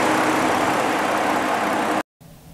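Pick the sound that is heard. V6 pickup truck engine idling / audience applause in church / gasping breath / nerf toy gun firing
V6 pickup truck engine idling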